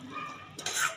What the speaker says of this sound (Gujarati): ઉપરથી ઘી ઉમેરી રવો સરસ બની જાય ત્યાં સુધી હલાવીશું